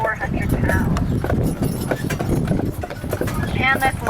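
Horses pulling a carriage in teams of three on Mackinac Island clop steadily on the road, their hooves ringing in an even rhythm close by while a guide talks over the sound throughout.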